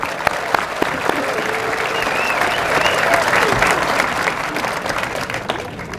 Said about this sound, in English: A round of applause for the community